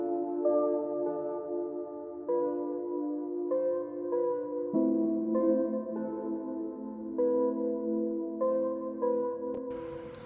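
Synth chords with a small top melody built from the Deviating Keys preset in FL Studio, a steady sustained progression with a higher line moving over it, playing alone with no talk.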